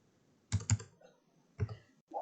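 Keys clatter on a computer keyboard in two short bursts of quick, close clicks, separated by a near-silent pause.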